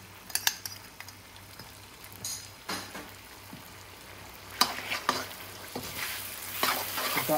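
Spices and tomato purée sizzle in a pan while being stirred for a chicken karahi, a steady fry broken by scraping strokes and a few sharper clinks, close and fairly loud, with no talking.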